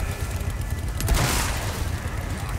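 Gunfire crackles through a tense Resident Evil 4 Remake fight, with a burst of shots and a heavier blast in the middle over a steady rumble.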